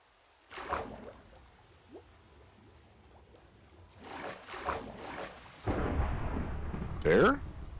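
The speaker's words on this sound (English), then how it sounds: "All right, we need this thunder." Thunder in a video game, tied to lightning strikes: deep rumbling rolls come in several swells, with a louder, sustained rumble building toward the end, alone without talk.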